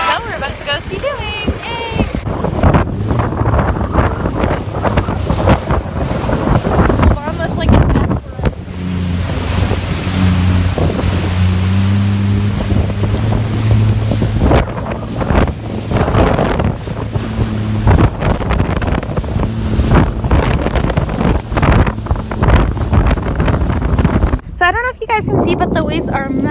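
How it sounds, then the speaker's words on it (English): A Sea-Doo personal watercraft rides over big ocean waves, with engine drone, splashing surf and heavy wind buffeting the microphone throughout, while people talk and shout over the noise. "So we're about to go Seadooing."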